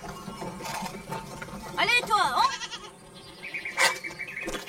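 Goats bleat in a few wavering cries, one loud and near in the middle and another shorter one later, mixed with a voice speaking and a soft background bed.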